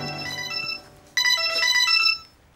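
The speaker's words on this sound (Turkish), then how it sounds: "Hocam telefon çalıyor." A telephone ringtone plays in a Turkish TV comedy, loud and close. It gives a short melodic phrase, a brief dip, then a brighter second phrase, with no talking.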